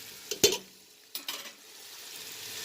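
Scallions and thyme caramelizing in a pot for Jamaican callaloo rice: a few sharp clatters of a spoon stirring, then a soft, steady sizzle continuing alone.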